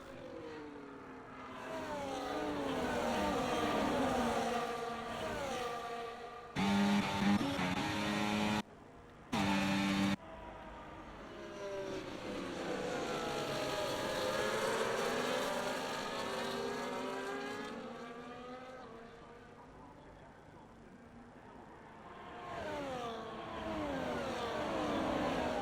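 Formula 1 cars from the F1 24 racing game at the British Grand Prix scream past in a steady stream, engines rising and falling in pitch as they approach and recede, loud and continuous with brief cuts.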